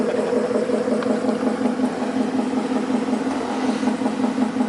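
A warmed-up 2014 Mustang GT fitted with BBK longtube headers idles close by, a steady, deep, even burble that holds without revving.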